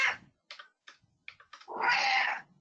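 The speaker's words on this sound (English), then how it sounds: "It's my cat." A pet cat yowls and meows in a short broken series of cries, ending in one longer, louder caterwaul, close by indoors.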